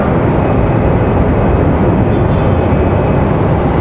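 An Aeromexico passenger jet departing Raleigh-Durham airport for Mexico City roars with loud, continuous broadband engine noise throughout, heard from nearby and unbroken by talk.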